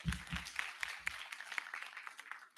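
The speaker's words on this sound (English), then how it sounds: "Another round of applause to Yudu and Cindy" Audience at a Web3 and crypto conference talk claps for the two hosts, a thin, fairly faint patter with a few sharper hand claps that fades over a couple of seconds.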